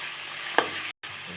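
Spices and onions frying with turmeric powder in a pan, a short burst of steady sizzling with one quick clink of a spoon before a brief cut in the sound.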